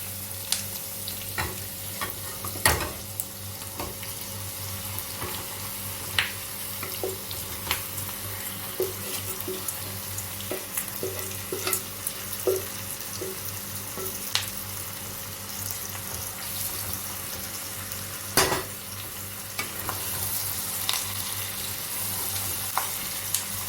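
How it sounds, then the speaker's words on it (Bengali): Steady sizzling of marinated chicken frying in a wok over a high gas flame, with occasional stirring clinks and scrapes, close and continuous without talk. "এবারে আমি মাখা মুরগিটা কড়াইয়ে ঢেলে"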